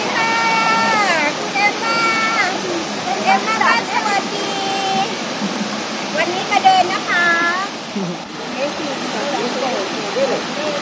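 A jungle waterfall near Wat Dipankara on Koh Samui gives a steady broadband rush throughout, with people's voices, shouts and laughter over the top.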